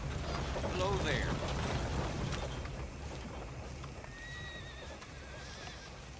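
A horse whinnies and its hooves clip-clop on the ground, the neighing high and close while the hoofbeats run steadily through a busy outdoor background.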